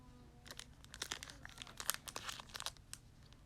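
A Pokémon card pack's foil wrapper crinkles and tears open in a series of close, sharp crackling bursts, fairly quiet with no talk.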